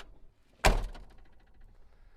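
A 1985 Chevy Silverado pickup truck door shuts with a single loud, close thunk, followed by a brief rattling decay and quiet surroundings.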